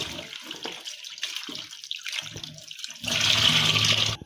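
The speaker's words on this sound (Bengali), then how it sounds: "বেশি করে জল দিয়ে ধুয়ে নিতে ভালো করে।" Running tap water splashes and trickles while fish is rinsed, intermittent at first and then a fuller steady gush near the end, close and fairly quiet.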